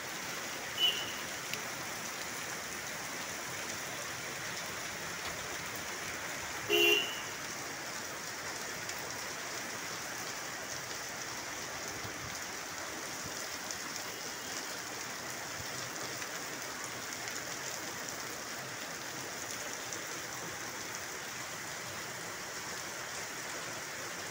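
Steady rain falls as a soft, even hiss that stays low and unbroken, with one brief louder knock partway through and no talking.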